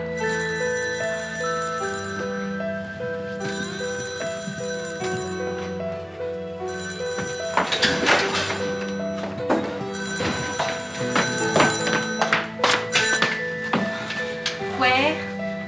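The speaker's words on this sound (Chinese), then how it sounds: "电话过来亮啦！" An old-style telephone bell in a Taiwanese drama scene rings in repeated bursts under sustained music, while people talk and clatter around it.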